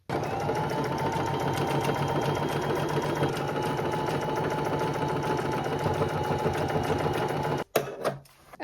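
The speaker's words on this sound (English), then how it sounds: "we're just going to sew along this white line here" A sewing machine stitches steadily along a marked white line while altering a denim dress, its fast even needle rattle running unbroken for several seconds before stopping with a couple of short clicks.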